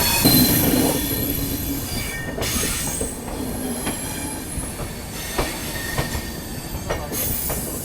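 The Yuva Superfast Express, an LHB-coach train, rolls into Hazrat Nizamuddin station with continuous rumbling, high metallic wheel squeals, and occasional sharp clanks over the rails, loud and close throughout.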